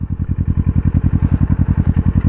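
A Kawasaki Versys 650 motorcycle idles in neutral, its engine putting out a steady, loud, close-up low throb with evenly spaced pulses and no speech over it.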